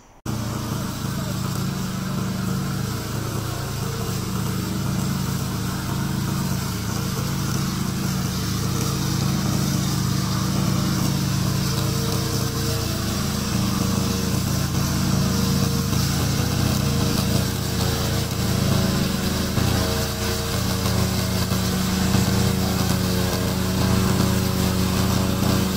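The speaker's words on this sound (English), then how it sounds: "We are a remote control lawnmower factory, and this is one of our products." A remote control lawn mower runs steadily throughout, a continuous motor drone with a whining engine tone, close and constant, with faint talking mixed in underneath.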